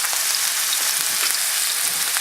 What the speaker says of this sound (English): Going to the skillet. We got a little lard in there.